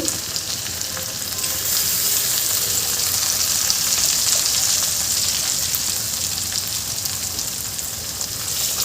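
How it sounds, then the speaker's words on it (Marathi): Tomatoes hit a hot frying pan for ragda patties and sizzle loudly and continuously, a bright hissing fry with light stirring scrapes, steady throughout and with no one talking. "इथे मी टमाटर घालून घेते।"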